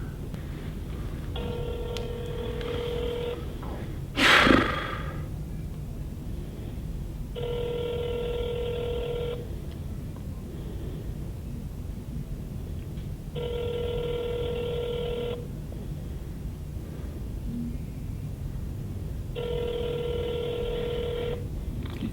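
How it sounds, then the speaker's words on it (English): A mobile phone ringing on an outgoing call, with four evenly spaced two-second ring bursts separated by silent gaps over a steady low hum, plus one brief sharp click early on. "You know it's a cell phone, and you know it's ringing."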